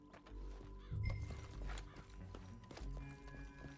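Horse hooves clip-clop at a steady galloping rhythm in the Red Dead Redemption 2 video game, fairly faint, with harness clinks and ambient game sounds around them.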